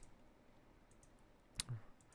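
A single sharp click of a key being pressed on a computer keyboard, heard once near the end of a quiet stretch and followed by a faint softer thump.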